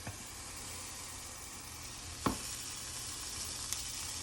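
A pan of pesto chicken couscous bubbles and sizzles steadily on the stove, a close hissing simmer with one sharp clatter partway through.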